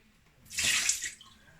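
Water poured out of a container of soaking soy beans in a kitchen, a single short splashing gush that swells and fades within about a second, alone against quiet.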